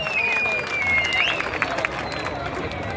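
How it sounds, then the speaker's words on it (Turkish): A live audience applauds at a Turkish comedic contest show, with clapping and crowd noise throughout. A presenter's voice and a whistling tone ride over the applause, fairly loud and close. "Nerede alkışlar sizde?"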